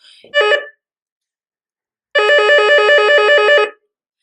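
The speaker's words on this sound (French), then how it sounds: "le téléphone sonne, je l'entends" A Doro 347 mobile phone rings with a bright electronic trilling tone, a short burst followed after a pause by a longer warbling ring, loud and clear in a quiet room.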